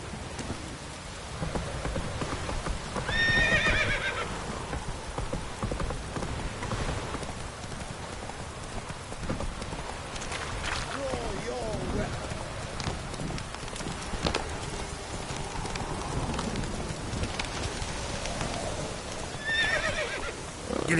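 The horse Roach in a video game neighing twice over a steady patter of rain, with hooves clip-clopping along in an even trotting rhythm through the long stretch.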